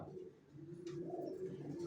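Racer pigeons coo steadily in a low, droning chorus close by, with soft rustling and a few faint higher chirps mixed in.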